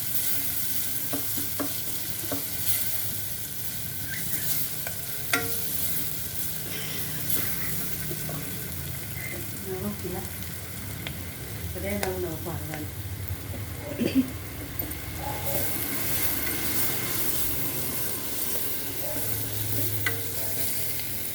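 Cluster beans (gokarakaya) fry in a pan for a curry, with a steady close sizzle and frequent scraping stirs and light clatter running throughout.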